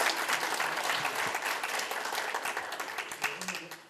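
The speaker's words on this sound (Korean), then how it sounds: "우리 큰 박수로 다시 한번 환영 인사드립니다" A crowd at a regional forum panel discussion breaks into sustained, dense applause to welcome the mayor, with many hands clapping close by and voices mixed in beneath it.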